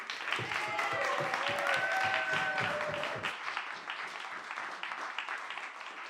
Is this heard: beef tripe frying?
no